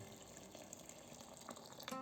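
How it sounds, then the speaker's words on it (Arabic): Hot water pours into a pot of freekeh soup, a brief, soft, splashing trickle that runs steadily for two seconds with no voices over it. "ولهذا نميهوها بليتر ماء سخون"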